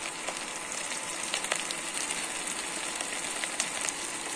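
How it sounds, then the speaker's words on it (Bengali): Ginger and garlic paste frying with onions in a pan for a Bengali hilsa and eggplant curry, a soft steady sizzle with faint crackles throughout. "আদা রসুন বাটাটা একটু কষিয়ে নেব, একটু কাঁচা গন্ধটা যাতে চলে যায়"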